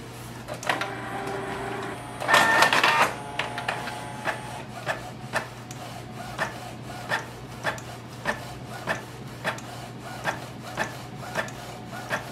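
A Canon Pixma G650 inkjet printer making a copy, a brief whirring mechanical burst followed by a steady rhythmic run of soft ticks as the carriage moves, over a constant low electrical hum.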